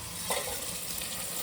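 Green chillies, four of them, drop into a hot pan for a mutton curry and are stirred, giving a brief soft sizzle and scrape over a steady background hiss.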